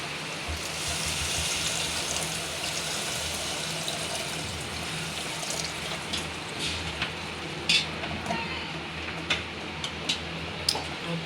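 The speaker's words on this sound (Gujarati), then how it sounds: "થોડુંક આપણે પાણી નાખી દઈશું રસો કરવાનો હતો" Water poured into a pan of freshly tempered vegetable curry to make gravy, producing a steady hiss with scattered sharp crackles and pops growing more frequent toward the end.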